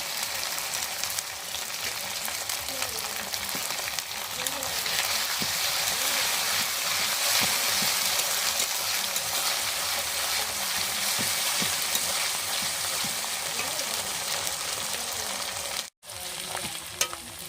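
Ginger and garlic paste sizzle in hot oil in a pan for a village-style chicken and potato curry, a loud, unbroken frying hiss with occasional stirring scrapes and a brief break near the end.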